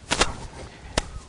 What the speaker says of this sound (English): actually closing the front door